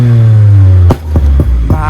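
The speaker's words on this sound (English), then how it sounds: "फिर मैं गाड़ी स्टार्ट करता हूँ, and then you will hear the exhaust" A Volkswagen Polo 1.0 TSI with a Venom stage 2 exhaust gives a loud, close drone that drops off abruptly, then several sharp pops and bangs follow in quick succession.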